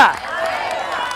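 A church congregation at a late-night evangelistic service claps hands for God amid a lively crowd hubbub, with the clapping blending into cheering and voices in a short, busy burst.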